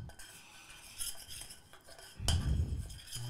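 A spoon stirs a thick chocolate mixture blended with kirsch syrup in a bowl, making soft clinks and scrapes against the sides that grow into a louder, heavier churning toward the end.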